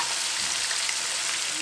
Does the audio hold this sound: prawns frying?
yes